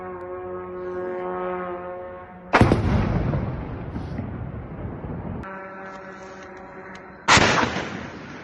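Two sudden, loud booming blasts from a drone strike near Moscow, each followed by a long rumbling decay, with a steady droning hum between them.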